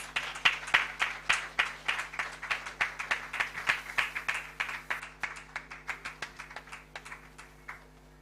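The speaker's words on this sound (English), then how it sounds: "Let's give her a round of applause." Audience at an International Day of Persons with Disabilities event in Ghana applauding the keynote speaker, a steady patter of many claps that fades and thins toward the end over a faint low hum.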